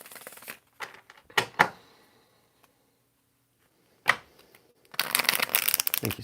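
Tarot cards shuffled during a reading, short crisp riffles and slaps in bursts with a pause in the middle, then a longer rapid flurry of shuffling at the end, close and dry.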